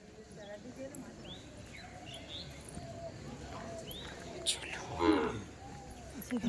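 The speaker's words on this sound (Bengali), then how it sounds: "ছোট্ট সোনা বাছুর দেখায় ওই দিকেও আছে ওই দিকেও আছে অনেক" Calves mooing at a cow shelter in Mayapur, with several drawn-out moos at mid distance, faint birdsong, and people talking nearby throughout.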